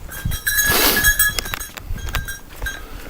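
Goats on a farm eat their morning breakfast on a winter day, with close rustling, munching and a faint bleat amid light scuffling and clicking movements.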